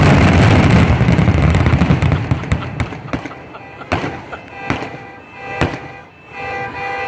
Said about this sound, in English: These are special fireworks.